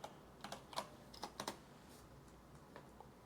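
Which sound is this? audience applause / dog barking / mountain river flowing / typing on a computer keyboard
typing on a computer keyboard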